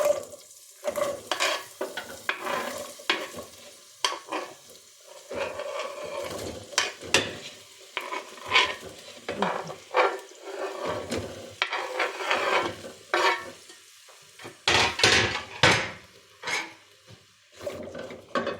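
Onions and potatoes fry together in butter in a pan, a steady crackling sizzle broken by frequent scraping stirs and light utensil knocks, close and fairly loud, with no voices.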